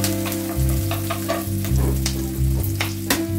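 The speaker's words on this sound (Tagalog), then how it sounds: "Medyo iluto muna natin ng maigi yung sibuyas dito dahil ang lulutuin natin ay pancit guisado" Onions fry in a pan as a base for pancit guisado, a steady close sizzle with scraping stirs from a utensil, under a pulsing low hum from the stove or kitchen.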